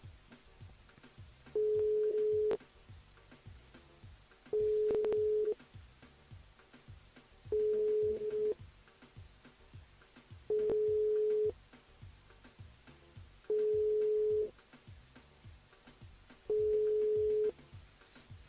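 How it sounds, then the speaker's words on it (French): Ringback tone of a telephone during a radio call-in prize draw, six long, steady evenly spaced tone bursts with gaps between, repeating without an answer. "Ça sonne, ça sonne."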